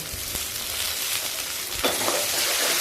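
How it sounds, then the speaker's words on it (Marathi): Finely chopped tomato hitting sautéed onions in a hot pan, giving a steady close sizzle with a couple of sharp stirring knocks and a fresh burst of frying. "आता त्यामध्ये मी बारीक चिरलेला टोमॅटो टाकते।"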